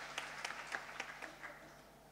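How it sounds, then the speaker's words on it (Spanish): An audience applauds at a health-sector recycling seminar, a modest patter of separate hand claps that builds briefly then thins out and fades toward the end, heard fairly close with no talk. "Un fuerte aplauso para ella."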